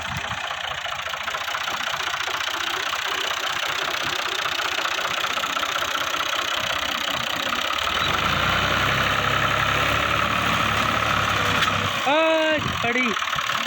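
A tractor engine idles steadily at close range during a harvest setting, a continuous low mechanical rumble with a short revving or shifting sound near the end, and no speech over it.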